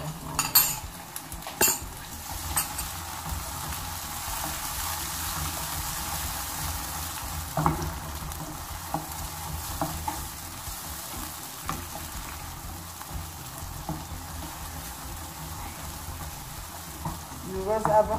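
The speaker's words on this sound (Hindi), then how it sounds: "अब हम इसमें ये लहसुन और अदरक का पेस्ट डाला हमने, साथ ही हम ये टमाटर डाल देते हैं।" Tomatoes fry with garlic and ginger paste in a pan, giving a steady sizzle throughout while a utensil stirs and scrapes with occasional clinks against the metal.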